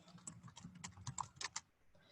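A title typed on a computer keyboard, a short quiet burst of quick, irregular key clicks.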